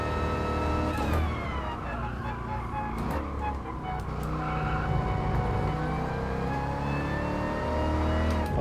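Race car engine in Gran Turismo Sport, a sustained high-revving drone with rising and falling harmonic pitch as the throttle is worked, steady and loud throughout with faint overlapping engine tones behind it.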